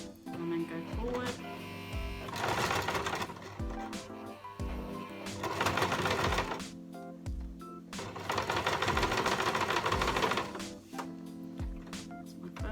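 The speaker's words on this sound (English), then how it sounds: "So I'll start with a reverse stitch" A sewing machine stitches a fabric face mask in two long, loud, close runs of rapid whirring, separated by quieter handling clicks and thumps, with brief talk between runs.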